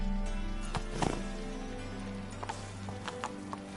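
Hooves of Roach, the horse in the video game The Witcher 3, clop in a quick galloping rhythm over a low ambient music bed, fairly close and steady.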